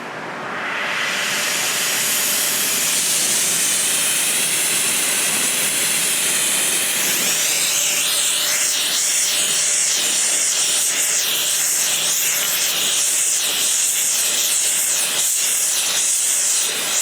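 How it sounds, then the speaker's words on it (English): Oil hisses and sizzles loudly as an oiled cotton rag is wiped over a freshly forged, heated rounding hammer, a continuous steamy hiss that intensifies midway with crackling texture. "receive a nice oil finish when I wipe it with this cotton rag with oil on it after I've heated it up"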